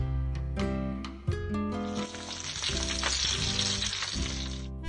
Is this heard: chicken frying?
yes